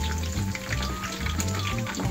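Lobster sizzling and crackling as it fries in a small pot of hot oil, a steady close hiss with faint popping throughout.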